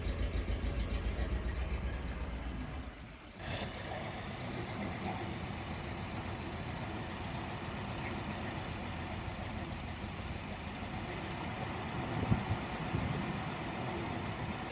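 A Volvo 740 engine fitted with a Weber carburettor idles with a low, uneven rumble and occasional misfire stumbles, steady and moderately quiet, with a brief dip near the start.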